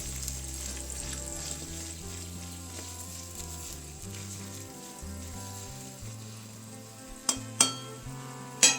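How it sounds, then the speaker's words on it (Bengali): Whole fish roe frying in a pan gives a continuous soft sizzle and crackle, with a few sharp metallic clinks near the end. "আজকে মাছের ডিমটা একটু অন্যরকমভাবে ভাজবো"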